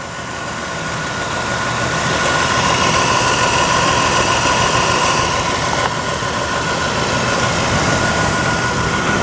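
A junk Cadillac engine with a giant alternator idles steadily, a loud, even, close drone that holds without change.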